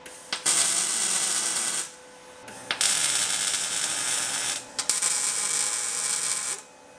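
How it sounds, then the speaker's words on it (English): Tack welding steel uprights into a 1960 1000SP car body produces a steady crackling hiss in two long bursts with short spits and pauses between them, close and fairly loud, with no talking. "So let's get these uprights tack welded in now that I've got those cut"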